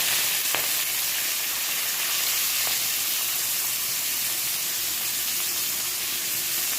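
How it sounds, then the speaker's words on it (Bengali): Onion and garlic fry in hot oil in a wok already seasoned with five-spice and chili, giving a steady, close, even sizzle and hiss throughout with no talking. "এবার পেঁয়াজ রসুনটা একটু ভাজা ভাজা করবো।"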